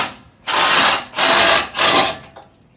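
Ratchet removing skid plate bolts on a first-generation Nissan Xterra, three loud buzzing bursts of rapid clicking, each about half a second long, close by and with no voices.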